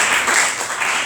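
A church congregation applauds in a brief burst of dense, steady clapping that fills the room at moderate loudness.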